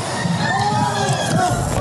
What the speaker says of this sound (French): Et les cris des employés de la chaîne terrorisée.